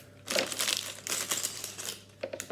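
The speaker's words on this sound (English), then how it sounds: "first order of business, open the bags." Plastic bags from a Star Wars Lego Microfighters set being torn and pulled open, a near run of crinkling and rustling bursts with brief pauses, no talking.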